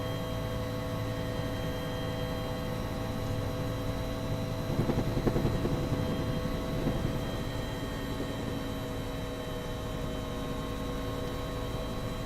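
Simulated UH-1 helicopter in X-Plane 12, laden with a heavy water load for firefighting near Innsbruck: a constant droning rotor and turbine hum with steady tonal whine, briefly rising in texture midway, no talk.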